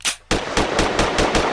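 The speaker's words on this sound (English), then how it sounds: "Hearing the gunshots," Rapid gunshots as a sound effect in a song: one sharp shot, then a fast rhythmic burst of about six loud cracks in quick succession.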